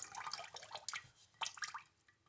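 Water drips and splashes in quick, irregular bursts from a shaving brush lifted out of water, close and quiet.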